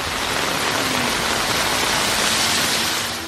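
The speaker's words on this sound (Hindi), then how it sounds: "कहीं हल्की कहीं तेज बारिश।" Heavy rain pours steadily over the streets of Karachi, a dense, loud, unbroken hiss of water falling close by with no pauses.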